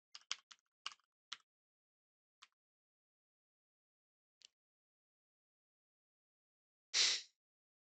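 A handful of sharp keystrokes on a computer keyboard while writing code, clustered at the start and then sparse with long silent gaps, followed by one louder, broader thump near the end.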